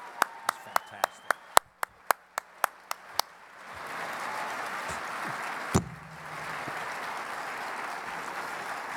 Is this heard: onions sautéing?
no